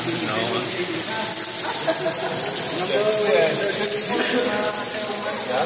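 Water pours and splashes inside a dark cave at Sagada, Philippines, a steady natural shower with a constant hiss while people talk over it.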